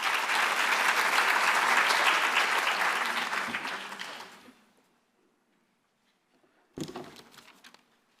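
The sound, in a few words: round of applause from audience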